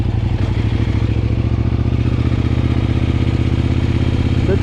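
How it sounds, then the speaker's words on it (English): A Kove 800X Pro motorcycle held at a steady, loud, close engine drone with a throbbing, pulsing rhythm, heard from near the rider during a power wheelie. "Power wheelie, no need for your clutch."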